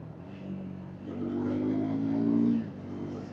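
A Triumph Speed 400 motorcycle gets a short throttle blip on a downshift, the engine note rising and swelling for about a second before dropping back, moderately loud and heard on its own.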